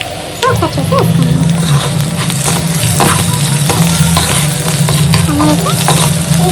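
Spices and chili powder fry loudly in a pan for a chicken curry, with a constant close sizzle and frequent scraping and clattering from the stirring spoon.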